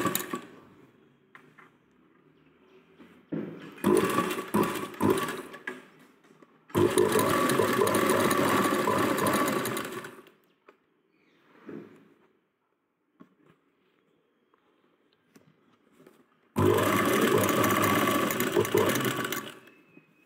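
A sewing machine stitching the side seam of a ladies' raglan sleeve top runs in three loud, steady bursts of whirring, each lasting a few seconds, separated by quiet pauses with faint handling noises.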